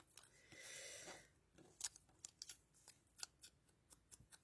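Scissors cutting small paper hearts: a brief swish of paper handling, then a run of crisp, close snips in an irregular rhythm, quiet overall.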